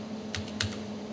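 A few light keystrokes on a computer keyboard while a project name is entered, two or three quick soft clicks over a steady electrical hum, no talk.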